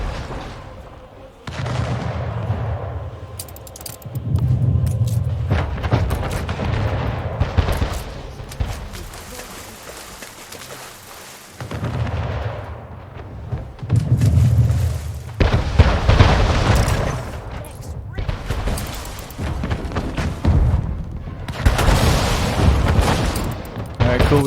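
Naval battle between the player's ships and pirate ships in the strategy game Anno 1800, with repeated booming cannon volleys and explosions in waves, heavy low rumbles alternating with quieter gaps, under someone talking.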